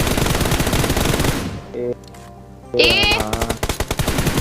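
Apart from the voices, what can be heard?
gunfire in a shooter video game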